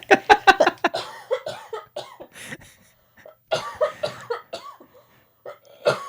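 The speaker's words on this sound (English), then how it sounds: "We can kill that cough." A burst of repeated harsh coughing fits up close, with gasps in between, going on in several bouts across the clip.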